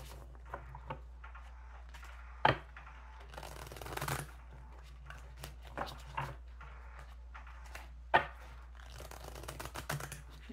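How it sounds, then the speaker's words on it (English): Tarot cards being shuffled by hand, soft riffling and flicking in short irregular bursts with occasional sharper taps, close and quiet. "We'll do two more shuffles."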